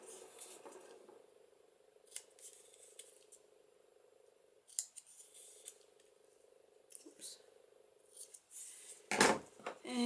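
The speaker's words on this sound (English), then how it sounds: "I'm just going to cut those corners off." Scissors trimming the corners off a printable paper label make a few crisp, close snips with a louder cluster near the end, set against a low, steady hum.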